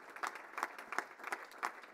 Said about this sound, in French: Je vous demande d'applaudir très fort au travers du bénévole de l'année, monsieur Paul Kessler